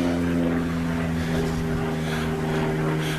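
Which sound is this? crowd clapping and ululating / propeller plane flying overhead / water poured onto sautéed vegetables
propeller plane flying overhead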